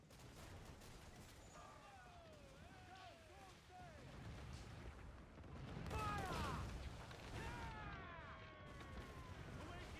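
Deep mortar booms rumble from a ship battle in Assassin's Creed IV Black Flag, swelling midway under a noisy mix of whistling, sweeping tones and low rumble, with a voice talking faintly throughout.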